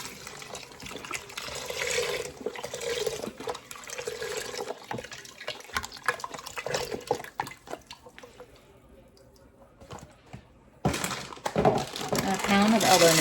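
Beef broth poured into an Instant Pot after sautéing hamburger, a splashing trickle of liquid heard close by, fading out and then resuming with clatter, while a person talks over it.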